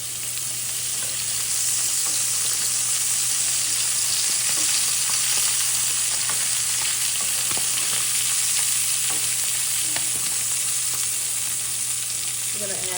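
Sausages fry in oil in a pan, a steady, close, continuous sizzle and crackle with scattered pops, no talking.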